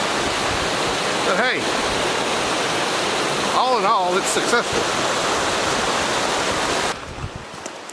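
Margarette Falls pours in a loud, continuous hiss of rushing water heard up close on a creekside hike, unbroken throughout, while someone speaks briefly over the roar.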